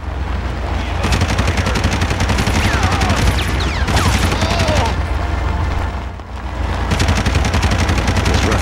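Turret gunfire during a turret section of the Red Faction video game, a dense continuous barrage of shots with booming low rumble throughout, briefly dipping near the end before resuming.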